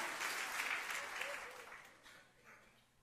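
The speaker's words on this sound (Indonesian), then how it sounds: "Beri tepuk tangan dulu untuk Tuhan kita." Congregation applause during a church service, a full wash of clapping that swells and then gradually fades over a few seconds, with no voices over it.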